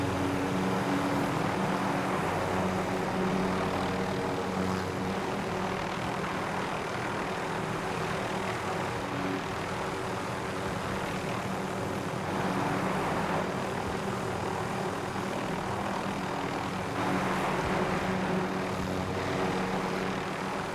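A helicopter in the Call of Duty Warzone video game flies with a steady, loud droning engine and rotor hum that holds without a break, and no talking.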